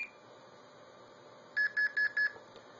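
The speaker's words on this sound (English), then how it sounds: "the four beeps, is the 2600 dial pulse mode" Four short, evenly spaced electronic beeps at the same steady pitch, clear and close over a faint hiss.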